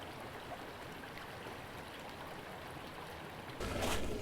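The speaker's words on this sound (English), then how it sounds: "This is Cottonwood Creek, so I'm going to have 5 minutes here." A mountain stream, Cottonwood Creek, flows with a soft, steady wash of water, fairly faint and continuous, growing briefly louder near the end, with no voices.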